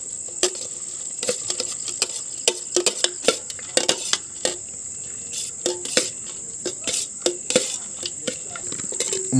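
Masala puffed rice tossed by hand, giving crisp, irregular rustling crackles and clicks in quick bursts against a steady, high insect-like chirp in the background.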